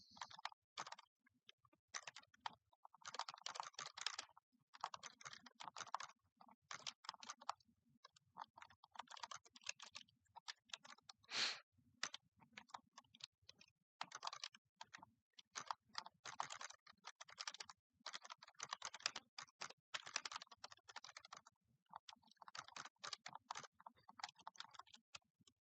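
Steady computer keyboard typing while entering PHP code: rapid, close, crisp key clicks in uneven bursts with brief pauses, going on for the whole stretch with no voices.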